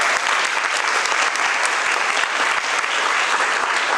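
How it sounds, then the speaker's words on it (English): Loud, steady applause from an event audience at a school panel discussion and closing ceremony, dense clapping sustained without a break from start to finish. "I really want you all to put a huge round of applause for this event"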